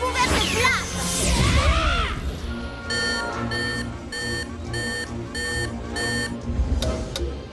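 A detector device in a cartoon film gives a series of regular, evenly spaced electronic beeps after a burst of whooshing, crashing action sounds.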